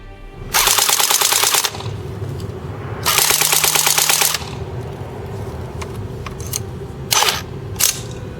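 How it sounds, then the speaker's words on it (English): An S&T PPSh airsoft electric gun has its bolt pulled back and locked and its upper receiver pushed open. Two long, dense metallic rattling bursts come first, then a few sharp, close clicks, with no talking. "If you pull the bolt back, lock it in place, and push forward on the upper receiver, you can open the upper receiver from the lower receiver."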